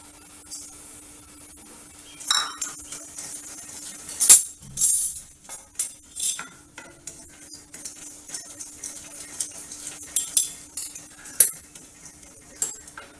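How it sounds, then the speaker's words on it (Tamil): Wheat rava dry-roasts in a kadai with no oil, a metal spoon scraping and clinking against the pan in irregular strokes, close and clear with quiet gaps between bursts, no talk. "வெறும் கடாயில் நம்ம ரவாவை வந்து வறுத்துக்குவோம்"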